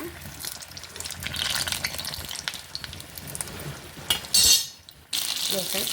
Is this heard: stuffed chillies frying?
yes